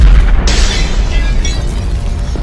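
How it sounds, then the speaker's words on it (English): A loud explosion bursts in an aircraft's forward cargo compartment, a heavy booming blast followed by a roaring, crackling rush that stays loud to the end. "Suddenly, an explosion occurred in the forward cargo compartment."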